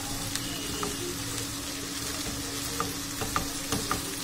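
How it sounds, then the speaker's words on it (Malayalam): Chopped beans cooking with salt in a pan for a thoran, a steady hiss of frying with scattered clicks and scrapes of a spoon stirring, close and without speech. "നമുക്ക് ആവശ്യത്തിനുള്ള ഉപ്പും ചേർത്ത് നന്നായിട്ടൊന്ന് ഇളക്കി നമുക്ക് വേവിക്കാനായിട്ട് വയ്ക്കാം"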